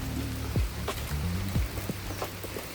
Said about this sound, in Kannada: ಮಳೆ ಜೋರು ಬರ್ತಾ ಇದೆ